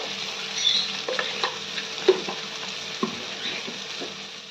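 Vegetables fry in a pan with salt and turmeric while being stirred, producing a soft, continuous sizzle with scattered taps and scrapes of the spoon and no voices.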